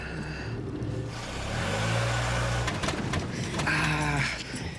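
A car's engine idles, revs and labours during a driving lesson, as a learner driver stalls it in a car park. The engine drones low and steady, then rises and wavers, fairly quiet and close, with no voices.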